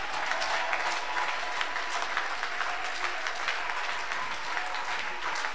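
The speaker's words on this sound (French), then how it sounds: "begin to clap your hand for Jesus" A church congregation claps together in steady, dense, continuous applause that fills the whole stretch at an even loudness, with no distinct voices standing out.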